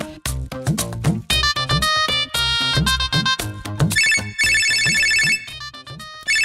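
A mobile phone rings with an incoming call, playing a loud, bright electronic ringtone melody with a punchy beat and repeating chime phrases, steady and close for several seconds with no voices.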